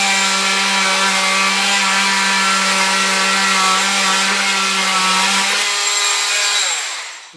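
A loud, big 7-amp corded oscillating multi-tool cuts into wood up close, its high buzzing whine steady for several seconds before the motor spins down and stops.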